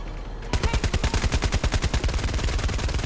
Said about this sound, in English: we are now going to use the 20mm armor piercing cannons